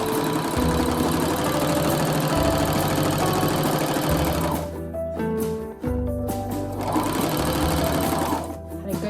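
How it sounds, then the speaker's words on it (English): A sewing machine stitches a seam in rapid mechanical bursts, its motor humming and needle clattering close by, pausing briefly between runs, with a voice speaking over it. "Check it every once in a while to make sure that your stitching is still going."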